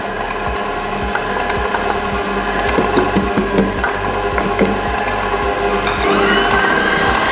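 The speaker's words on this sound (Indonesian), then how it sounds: "Kita mixer sampai mengembang, kental dan berjejak" An electric mixer beating banana cheese cake batter at medium speed, a loud continuous motor whir with rhythmic knocking of the beaters against the bowl, close and steady throughout.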